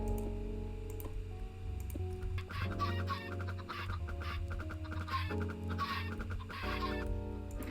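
Minecraft chickens cluck repeatedly in short, close bursts in a 1.16.2 game session, over a steady low hum and a few faint clicks. Nobody speaks.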